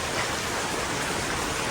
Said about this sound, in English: just a very relaxing, peaceful rain all morning. Listening to a pitter patter on the roof